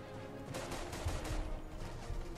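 Rapid gunfire in the World War II shooter RAID: World War II, a short burst of repeated loud shots in quick succession with no talk.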